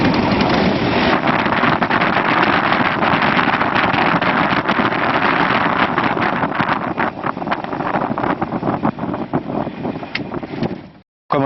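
A motor started up and left running on a new Super B battery, a loud, steady close engine roar with wind-buffeted rumble that holds for about ten seconds before cutting out abruptly.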